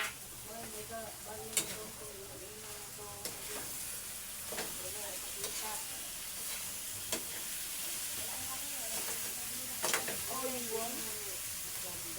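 Bitter gourd with egg cooking in a pan makes a soft, constant sizzle and hiss, with occasional spatula knocks, while a voice talks intermittently over it.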